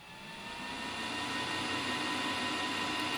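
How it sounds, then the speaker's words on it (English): A center lathe runs with a steady mechanical drone and thin high whine, fading in at first and then holding constant like background machinery. "I have this recording of the center lathe"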